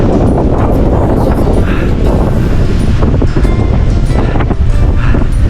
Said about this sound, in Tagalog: Nakakatakot yung hangin kasi ang lakas.